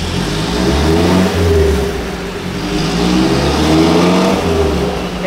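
A Daihatsu Zebra Turbo engine revs hard on a dyno during tuning, a loud close sustained drone that rises and falls in two broad sweeps, with no talking.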